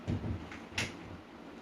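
An indoor door is pushed shut, giving a short sliding scrape followed by a soft close, near and moderately loud in a quiet room.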